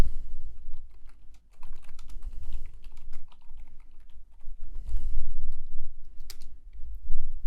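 Steady typing on a computer keyboard, a brisk run of close, distinct key clicks with short pauses, heard alone without talk.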